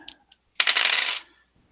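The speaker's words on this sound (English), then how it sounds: "my dice are rolling low" Dice rolling across a table during an OD&D tabletop game, a single short bright rattle and clatter, close and clear, after two tiny clicks, with no talking.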